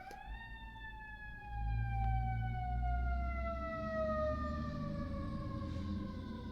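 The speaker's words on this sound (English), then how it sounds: "I was just waiting for the sirens to pass" Emergency vehicle sirens wail outside, a steady tone slowly falling in pitch as they pass, moderately distant, over a low rumble of traffic that swells midway.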